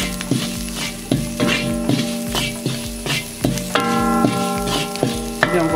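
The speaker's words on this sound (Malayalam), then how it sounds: "ഈ ഇരുമ്പിൻ്റെ ചട്ടിയിൽ തന്നെ ഇങ്ങനെ ബീഫ് പെപ്പർ ഫ്രൈ ഉണ്ടാക്കാം." Beef botti pepper fry cooking in an iron pan, a loud close sizzle with repeated metallic scrapes and knocks of the spatula in a rough rhythm, plus a steady tonal hum behind it.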